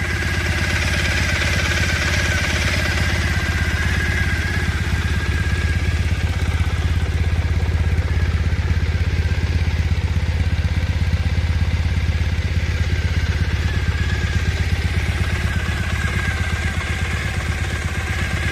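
A 2015 Triumph Bonneville T100 engine idles steadily at close range, with a low, even rumble and a light mechanical clatter that continues unbroken and without any talking.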